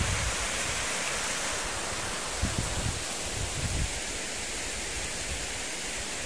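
Overflowing water rushes steadily through a rural canal after rain, a dense, constant broadband roar close by with a few brief low knocks midway and no voices.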